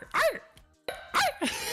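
A person imitates a dog bark with their voice, giving three short, loud, throaty barks with brief pauses between them, heard close up and on their own.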